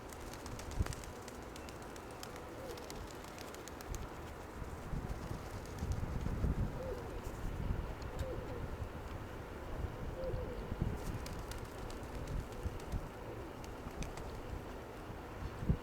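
Pigeons coo softly in a loft or yard, low murmuring calls under steady wind rumble and microphone buffeting, with faint occasional clatter and no clear talk.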